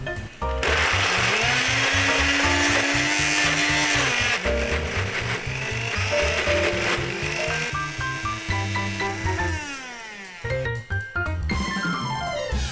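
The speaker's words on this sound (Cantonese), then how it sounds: "最後再放1茶匙嘅芫茜粉同埋少少嘅油打碎佢" A blender grinds laksa spice paste with coriander powder and a little oil. Its loud, continuous whirring motor changes pitch as the load shifts, cuts out briefly near the end, then whines again in close-up.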